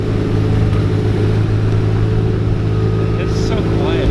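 A car with a fully built, tuned KA-T engine runs steadily as it is driven off, giving a loud, close, continuous droning hum with faint voices underneath.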